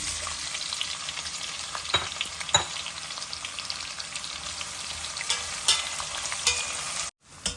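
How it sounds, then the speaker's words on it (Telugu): Sliced onions fry in a pan with a steady bright hiss, punctuated by irregular scraping and tapping as they are stirred, before the sound cuts off abruptly near the end. "కొద్దిగా అలా వేగనిద్దాం తర్వాత ఉల్లిపాయలు పొడుగ్గా కట్ చేసుకున్న ఉల్లిపాయలు"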